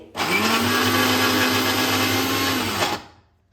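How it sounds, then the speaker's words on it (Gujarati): A mixer grinder grinding dates whirs loudly for under three seconds, revving up, holding a high steady whine, then cutting off and spinning down. "આ રીતે ચાલુ બંધ ચાલુ બંધ કરતા જઈ આપણે ખજૂરને પીસવાની છે"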